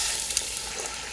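Crackling, steady sizzle of pork belly chicharrón pieces frying in oil at about 190°C, close and moderately loud with no talk.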